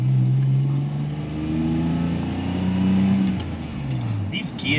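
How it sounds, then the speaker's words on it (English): A Nissan Skyline R34 with a straight-cut manual gearbox drives close by, a sustained whine rising and falling with engine revs, loud and steady. "These gears, I think they might be straight cut. I don't know. It just whines a lot."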